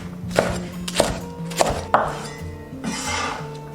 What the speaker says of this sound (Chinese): 姜葱切小段。